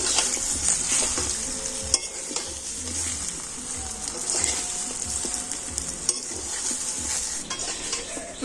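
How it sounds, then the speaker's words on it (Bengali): Raw mango pieces stirred in hot oil in a kadai: steady frying sizzle with repeated scraping and clinking of a spoon against the pan, close and continuous with no voices. "আমগুলো তেলের সাথে একটু হালকাভাবে নাড়াচাড়া করে নেবো"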